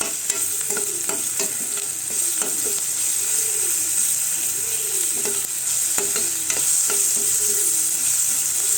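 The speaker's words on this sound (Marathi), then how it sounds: "आलं लसणीची पेस्ट घालायची थोडीशी. चांगली पण परतवून घ्यायची." Ginger-garlic paste sautés in a pan for a brinjal and potato curry, giving a steady close sizzle with repeated scraping stirs throughout; no voices.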